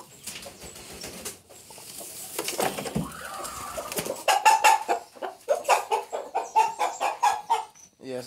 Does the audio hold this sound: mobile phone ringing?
no